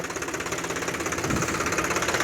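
A tractor engine chugs steadily up close in a chickpea field, a loud rhythmic knocking drone that holds even throughout with no other sounds.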